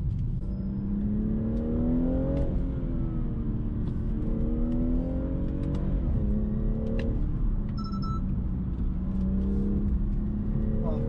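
A BMW M240i engine climbs in pitch, drops as the gear shifts, then climbs again, repeating through several gears; a voice talks over it.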